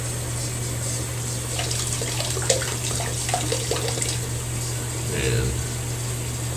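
Water running from a bathroom tap while shaving, a steady hiss and gurgle under a low hum, with someone talking over it and a brief splash near the end.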